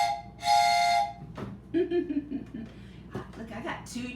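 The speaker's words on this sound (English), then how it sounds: "Look, I got two train whistles." A toy train whistle blown once in a short, bright, loud toot near the start, followed by someone talking and chuckling.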